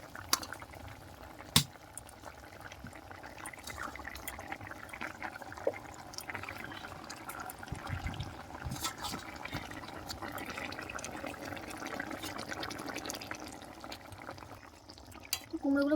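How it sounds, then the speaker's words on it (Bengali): Mango and fish curry with pumpkin simmers to a boil in a pot, giving a steady low bubbling and gurgling that runs throughout, with a few sharp clinks and light drips on top. "এবার তরকারিতে ফুট চলে এসছে"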